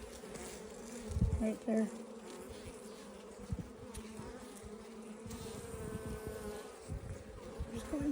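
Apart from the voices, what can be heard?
honeybees buzzing in hive during frame inspection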